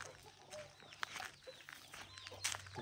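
A week-old chick among mixed farm chickens, quiet repeated high chirps and soft clucking, distant and low in level, with no one talking.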